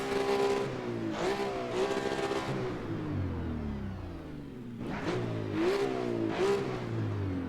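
Porsche GT2 engine revved hard in repeated blips, each rise followed by revs falling slowly and sluggishly as if held up by a heavy flywheel, loud and close with a rich tone and no talk.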